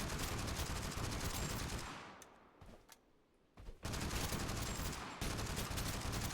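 A magazine emptied in rapid automatic bursts in the game Totally Accurate Battlegrounds, dense loud gunfire that drops out briefly in the middle, then resumes with a few sharp single shots before a sustained burst.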